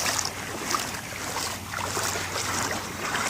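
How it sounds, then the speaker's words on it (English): Ocean waves wash and break on a beach at Sand Key, Florida, in a dense roaring hiss, with heavy wind buffeting the microphone throughout. "Oh, the waves get stronger?"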